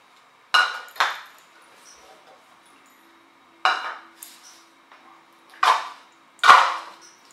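Dry cornbread ingredients are put into a bowl and handled with utensils, giving a handful of sharp, separate clinks and knocks of metal against the bowl in a quiet room, with pauses between them.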